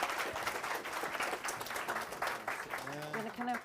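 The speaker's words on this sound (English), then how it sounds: "Can we have a round of applause for Daniel?" Audience applause at a learning disability conference in South Wales, a brief burst of many people clapping together, with a voice speaking over it toward the end.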